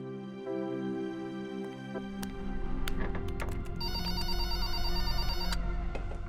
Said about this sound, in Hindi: सुभाष काका, अर्जुन सर को बोलिए ना गौरी मैम का फोन है।